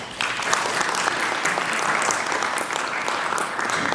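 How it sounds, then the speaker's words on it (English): A crowd at a memorial ceremony for the victims of the October 7, 2023 terror attack gives a warm, even round of clapping that holds steady throughout the few seconds without any voices over it. "I would like to request all of you to clap for him if you can"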